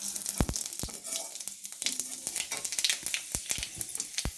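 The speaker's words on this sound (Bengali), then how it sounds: "কড়াইতে যে তেল আছে ওর মধ্যে দিয়ে দেব 5 ফোড়ন" Panch phoron spices crackle and sizzle in hot leftover frying oil in a wok, a dense steady sizzle with sharp popping ticks throughout, fairly close.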